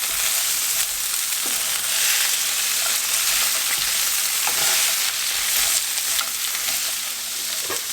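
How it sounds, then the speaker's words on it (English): Green beans sizzling and frying in a pan while being stirred, a continuous crackling sizzle with soft scraping stir strokes, close and fairly loud with no talking. "And then give them a stir."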